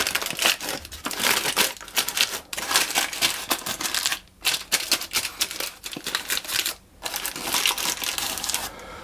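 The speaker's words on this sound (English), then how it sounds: "And then I'm going to line it with some parchment paper." Parchment paper is crinkled and pressed into a tart tin for a custard tart, with loud, close, bursty rustling and crackling that stops briefly twice.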